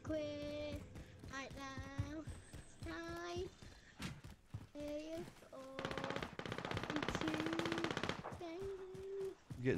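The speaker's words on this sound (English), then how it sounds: "I'm already getting shot." Rapid gunfire in the skateboarding video game Skate 3, bursts of automatic shots crackling between stretches of game voices and tonal effects, with a sustained volley toward the end.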